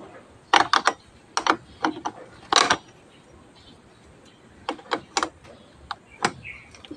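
Wrench tightening the battery terminal on a Toyota Corolla: sharp metallic clicks and clinks in short irregular clusters, close by, with quiet pauses between.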